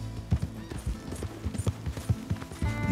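Rhythmic clip-clop of horse hooves while riding in Red Dead Redemption 2, steady repeated hoofbeats close by under a faint game ambience.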